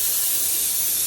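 Steady, loud hiss of aerosol brake parts cleaner spraying continuously at close range on a 14-year-old Briggs and Stratton generator.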